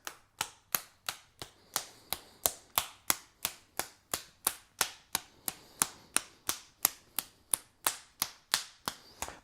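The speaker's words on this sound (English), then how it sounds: "I can clap the whole top. Clap in between the thumb and the finger, right in here." Rhythmic hand clapping with a clapper tapped across the tops of the hands and between thumb and finger, a steady series of about two dozen sharp close slaps at an even pace.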